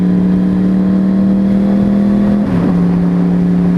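A Yamaha R1 motorcycle's engine drones steadily and loudly while riding, holding a constant pitch with a slight dip and wobble midway, wind rush underneath.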